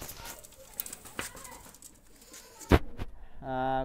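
A pair of Pakistani high flyer pigeons give short, muffled coos through handling noise and knocks, ending in a sustained throaty coo.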